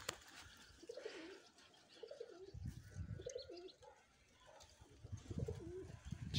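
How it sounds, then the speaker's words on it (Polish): A lost racing pigeon coos in repeated soft, throaty phrases close by, with faint chirps and light rustling between the calls. "Ciekawe, czyli to gołąb."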